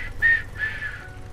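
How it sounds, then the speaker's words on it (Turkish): A few short whistled notes drift in the background of the farming video game Farm Expert 2016, faint and melodic over a low ambient hum. "arka planda biri ıslık çalıyor yalnız"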